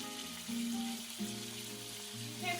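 King prawns fry in a pan over high heat, giving a soft, steady sizzle beneath gentle melodic background music, with a few louder crackles as the cooking continues.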